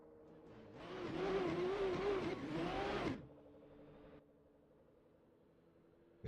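Toyota A90 Supra race car in a sim racing qualifying run at Brno Circuit, engine swelling loudly as throttle opens, a few seconds of strained revving, then dropping to a quieter hum.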